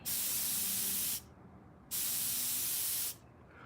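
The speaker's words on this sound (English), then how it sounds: "when I let off that button, it should stop blowing. But there's a delay." Bursts of sharp, steady air hiss from a dirty airbrush, each cutting off abruptly, with a short quiet gap between them and a fainter hiss returning at the end after trigger release.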